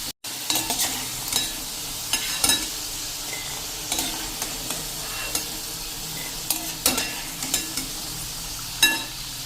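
Potatoes fry in hot oil with a steady close sizzle, broken by repeated scrapes and clinks of a utensil lifting them out of the pan, no talking.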